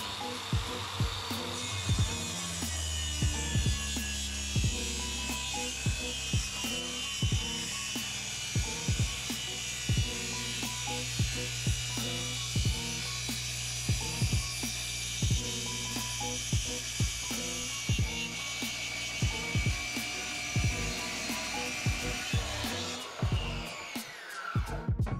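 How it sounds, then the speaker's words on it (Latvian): A Makita SP6000 plunge saw runs continuously while cutting without a dust extractor attached, a loud, steady motor whine with a dense, rattling texture that holds for over twenty seconds before spinning down at the end. "Tagad uztaisīs tīri vienu stūmienu, lai parādītu, kas notiek ar skaidām, zāģējot bez sūcēju"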